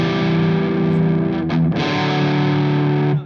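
Electric guitar chord ringing with heavy distortion, thick and sustained with clashing, slightly muddy notes, a brief change in the middle, then ringing on loudly before cutting off, with no talk.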